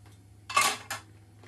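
A utensil clinks and scrapes against a pot or pan while dinner is stirred at home, two short metallic bursts over a low steady hum.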